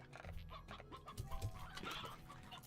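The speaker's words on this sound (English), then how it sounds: "so many chickens" Chickens cluck in the Slime Rancher video game, a soft busy stream of short clucks and squawks overlapping in the background with no talk.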